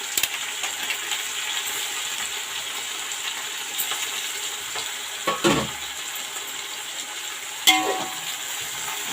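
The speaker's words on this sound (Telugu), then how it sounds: "అల్లం వెల్లుల్లి పేస్ట్ బాగా వేగింది." Ginger garlic paste sizzles steadily in a pot for biryani, a continuous soft frying hiss broken by a few brief scraping stirs and clinks.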